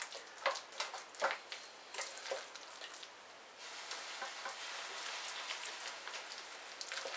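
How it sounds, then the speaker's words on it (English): Soft, crackly sizzling of soup in a pan on a woodburning stove, a continuous patter of tiny pops and spits, fairly quiet, with a few louder bursts early on. "My soup's sizzling"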